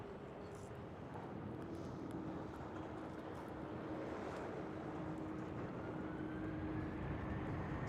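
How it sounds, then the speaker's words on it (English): A Corendon Boeing 737 MAX taxis at Amsterdam Schiphol airport, its distant jet engines a steady low rumble and whine that slowly builds, with faint wind noise on the microphone. "Corendon 737 MAX is taxiing in front of it."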